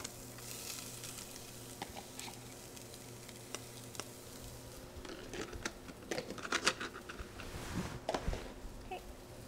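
Ginger sweating in a hot pan for a salmon and shrimp stir-fry gives a steady, quiet sizzle, with a few sharper clicks and scrapes of stirring toward the end.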